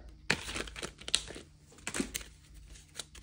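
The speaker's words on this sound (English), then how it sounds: "And now we're going to get into this envelope." A paper envelope being torn open and handled up close, giving quiet, irregular crinkles and rips in short bursts.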